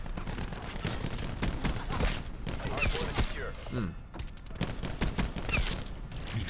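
An AC-130 gunship fires in Call of Duty Black Ops 4 multiplayer, a dense, continuous barrage of gunfire and explosive thumps that rolls on without pause at moderate loudness.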